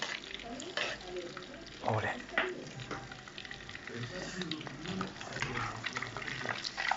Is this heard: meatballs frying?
yes